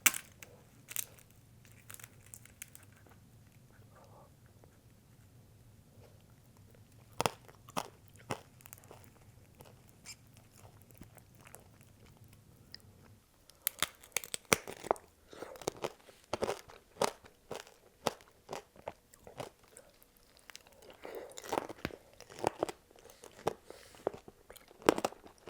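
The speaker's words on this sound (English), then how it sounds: "the crunchy outside of the candy just pairs so well with the slightly sour, refreshing, watery strawberry" Close, crisp crunching bites into a candy-coated strawberry in a mukbang, with scattered crackly bites near the start and denser wet chewing crunches later, quiet between bites.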